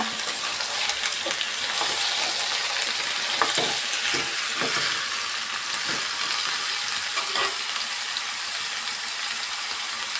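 Sweet pumpkin curry sizzles steadily in a hot pan, a dense, loud, continuous frying hiss broken by occasional scrapes of stirring.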